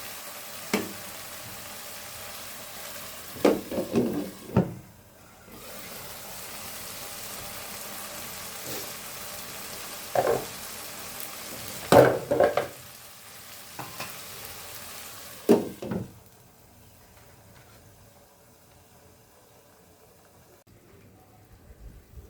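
Dried loitta fish (shutki) cooking in a pan, a soft continuous sizzle broken by several louder bursts of stirring and scraping, then fading quieter near the end.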